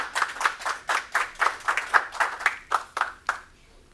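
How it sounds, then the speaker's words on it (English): Scattered audience at an industry craft workforce awards ceremony claps for an award recipient, about a dozen distinct claps in an even, unhurried rhythm that slows and fades out near the end. "You can clap for him if you want."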